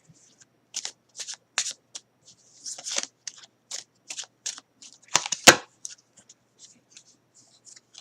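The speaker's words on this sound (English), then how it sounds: "I can't believe I dropped all these cards" Tarot cards being picked up and handled after being dropped, a series of close, crisp flicks, slaps and riffling bursts scattered irregularly, with one louder shuffle near the middle and quieter card taps trailing off.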